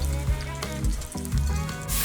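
Sage leaves sizzle in butter in a pan, a close, steady frying hiss broken by a few low squishy pulses as the pan is moved or stirred, with no talking.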